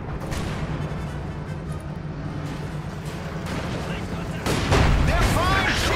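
Enemy gunfire and artillery in Company of Heroes 2 rumble through a Stalingrad battle, with crackling shots and distant booms under steady combat noise, swelling into a louder blast near the end while a voice talks.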